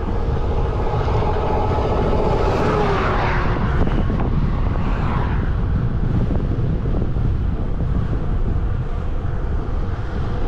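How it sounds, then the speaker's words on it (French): Strong, violent wind blasting across the microphone of a rider on an electric bike in assist mode 3, cruising at about 25 km/h into a headwind: a loud, continuous roar of buffeting that lasts throughout, with no talking. "Beaucoup de vent, un bon vent violent."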